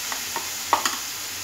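Ripe mango and paneer being stirred in a hot frying pan over low heat while making kalakand, a few short scraping strokes and a faint sizzle, close and quiet with no talk.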